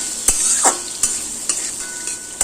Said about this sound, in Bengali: গ্যাসের ফ্লেমটা মিডিয়ামে দিয়ে আলুগুলোকে 2-3 মিনিট ভেজে নেব